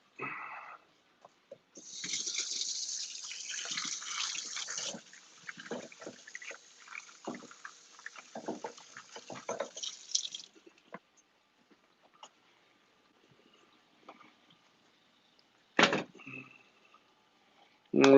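Water runs steadily from a tap for several seconds as potatoes are rinsed during an outdoor barbecue cook, followed by scattered clunks and handling noises with long quiet gaps.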